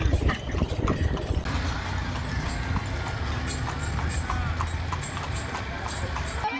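Horse hooves clip-clop steadily on a road as a horse pulls a carriage in Egypt, an even trotting rhythm heard close and continuous, with faint voices in the background.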